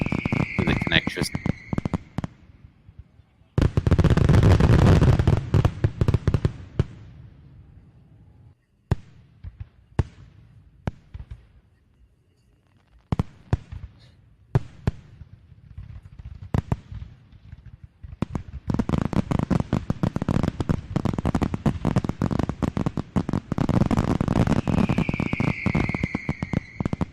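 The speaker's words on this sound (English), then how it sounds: "the fireworks sound is cool" Fireworks sound effect with dense crackling and sharp popping bursts in repeated clusters, loud and close, separated by short gaps of quieter scattered pops.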